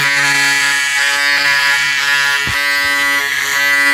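A Braun Series 7 360 Flex electric shaver runs continuously while shaving, a loud, close, steady buzzing whine with faint scraping and rubbing against stubble.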